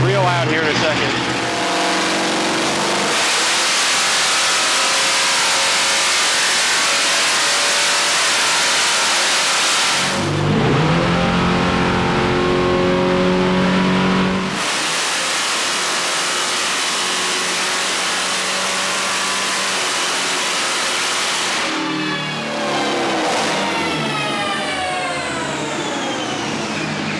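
A Hellcat-swapped Dodge Viper on a dyno, its supercharged engine roaring loud and close through a long wide-open pull, dropping briefly between surges, then climbing again with whining harmonics; people talk over parts of it.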